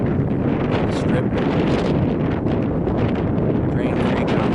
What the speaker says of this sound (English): It's windy, it's a little overcast.